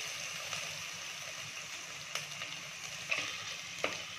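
Crushed ginger and garlic sautéing in oil in a clay pot, a soft steady sizzle with a few light clicks of stirring, fairly quiet and continuous without talk.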